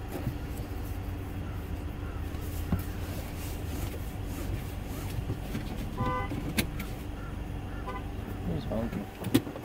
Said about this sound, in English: It was honking.